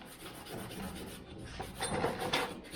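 Abrasive scuffing on the body surface of a 1969 VW Bug ahead of seam sealing, a soft steady rasping rub with rhythmic strokes, fairly quiet and close.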